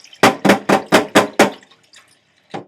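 A wig is repeatedly dunked and lifted in a basin of conditioner water, giving six rhythmic sloshing splashes in quick succession, close and loud, then a short pause and one more splash.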